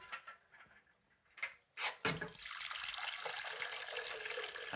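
Liquid pours steadily into a container after a few brief clinks and knocks, forming a continuous splashing flow that fills the last half of the clip at close range, with no talking.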